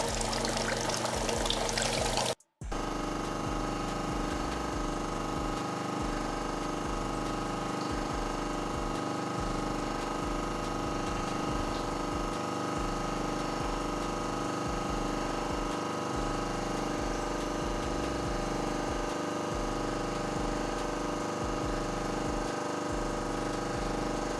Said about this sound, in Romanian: în momentul de față avem apă pe retur